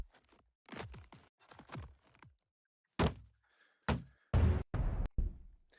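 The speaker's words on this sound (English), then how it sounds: "we're going to do it like a thud" A series of thud sound effects made for a game: short, dull, heavy thumps in clusters separated by silence, close and distinct, with sharper final hits.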